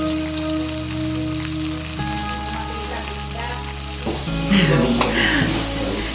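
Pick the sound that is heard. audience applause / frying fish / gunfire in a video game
frying fish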